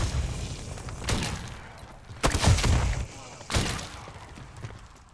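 Video game gunfire aimed at zombies: several loud, close bursts of shots and crashing impacts, spaced about a second apart, with a voice speaking underneath.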